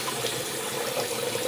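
Tap water runs steadily into a bathroom sink for a quick face rinse after shaving, a continuous close splashing gush with no talking.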